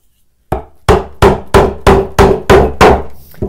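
Hammer pounding a chisel into wood while hand-cutting a butterfly bowtie inlay: seven sharp, evenly spaced, fairly loud blows in a steady rhythm, each with a short ringing decay, following a brief silence.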